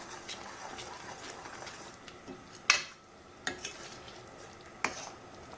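Gal gal citrus simmers with spices in a pot, giving a soft bubbling hiss with a few sharp spoon-on-pot clinks and scrapes from stirring, close by and fairly quiet, with no talking.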